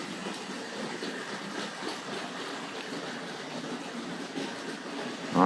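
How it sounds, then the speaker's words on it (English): A Hornby R.550 9F heavy freight locomotive model pulling R.214 ore wagons rolls along the track, a steady close rumble with faint rhythmic clicking and no speech. "I think we'll just catch that brake van as it rolls into the tunnel there"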